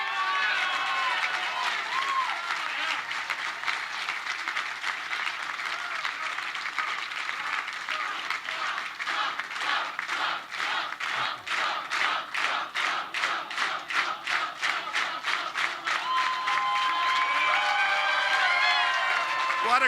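Large crowd at a Donald Trump campaign rally clapping and cheering, swelling into a long loud wave of applause that turns into rhythmic unison clapping and chanting before cheers rise again.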